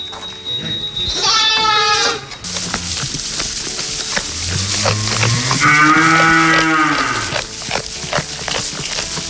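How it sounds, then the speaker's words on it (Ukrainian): Farm livestock kept by displaced families in Lviv region, with cattle lowing and goats bleating in overlapping calls, a long deep moo dominating mid-clip against a busy barnyard background, loud and close. "Тепер тут живе десятеро корів."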